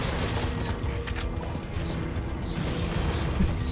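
An elevator running in the video game Resident Evil 4 Remastered, a steady mechanical hum and rumble with faint clanks and ratcheting ticks throughout.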